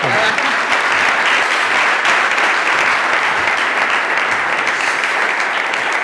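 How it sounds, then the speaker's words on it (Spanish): A conference audience breaks into loud, sustained applause, a dense, even roar of many hands clapping throughout without pause. "Un aplauso, muchas gracias, Laura."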